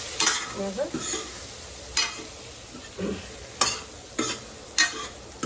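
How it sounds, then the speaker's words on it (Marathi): Masala-stuffed eggplants frying in oil in a pan, with a soft sizzle underneath and several sharp scraping stirs of a spatula scattered through the moment, recorded close. "छानपैकी त्यांना तेलामध्ये परतून घ्यायचे आहे."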